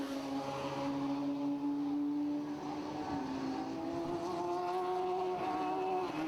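Radical race cars at Donington's Coppice Corner, several engines screaming together at a distance, high revving notes overlapping and shifting as the pack sweeps through the bend.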